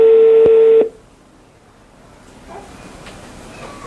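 Telephone dialing tone on a phone call into a broadcast debate: one loud, steady tone lasts under a second, then cuts to a faint hissing line with soft clicks.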